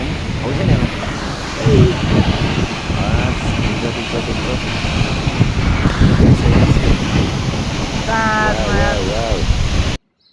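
A waterfall in Nepal roars as a steady, loud rush of broadband noise under wind buffeting, with voices talking over it, before cutting off abruptly near the end.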